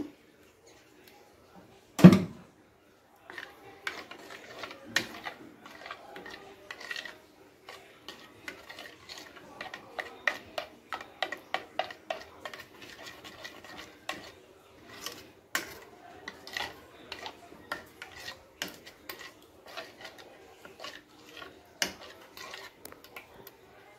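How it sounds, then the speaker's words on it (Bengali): Ground spice paste being stirred into about 200 grams of beaten yogurt in a bowl, after a single loud clunk, a long run of rapid scraping, tapping spoon strokes against the bowl, close and clear. "যে মিক্সিং জারে যেটা আমি মশলাটা রেডি করলাম সেটাকে এবার এই দইয়ের সাথে ভালো করে মিশিয়ে নেব"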